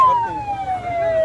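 An emergency vehicle siren wails close by at a road-blocking protest in Talagang District, a single loud descending tone over road traffic noise.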